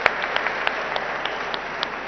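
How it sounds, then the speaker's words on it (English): Applause from an audience at the inauguration of an eye hospital, a steady broadband wash of many hands clapping with a few sharper individual claps standing out, moderately loud and with no talking. "which I think deserves a huge round of applause to the entire team of Sankara"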